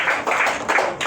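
A short burst of clapping for a little boy at a church service, a few people applauding in uneven rhythm, close and fairly loud.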